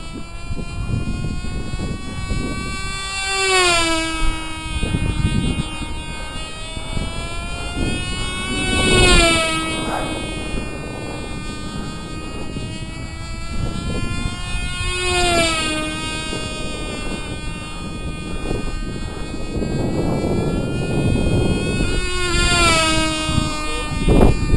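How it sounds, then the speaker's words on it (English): A Cox Killer Bee model engine with a Tee Dee frame and RC carb runs rich on a test stand, a loud, steady high-pitched whine with rhythmic surges in pitch every few seconds throughout. "Still running the rich."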